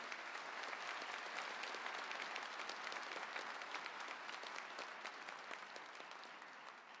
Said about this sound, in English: Graduates, please give a big round of applause